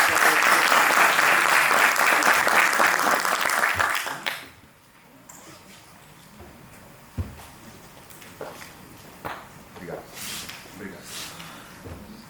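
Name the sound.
audience applause at an export event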